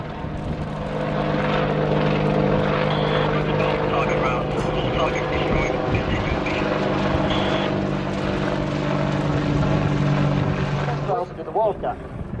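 A Westland WAH-64D Longbow Apache AH1 attack helicopter flying a display at the RIAT 2019 airshow: loud continuous rotor and turbine drone with a steady thrum, fading slightly near the end, with an announcer talking over it.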